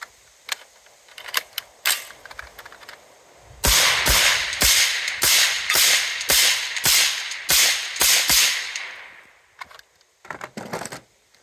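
A suppressed Mk18 rifle fitted with a Brügger & Thomet suppressor fires a rapid string of about eight sharp, loud cracks, preceded by a few fainter scattered clicks and followed by quieter mechanical clatter.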